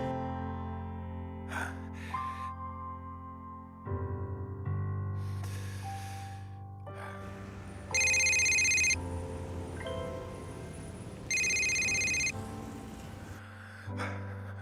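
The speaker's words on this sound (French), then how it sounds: "Réponds au téléphone." An electronic telephone ringtone rings in two bright, loud bursts separated by a pause, following quieter tonal music and soft breathing in a scene of a romantic French film.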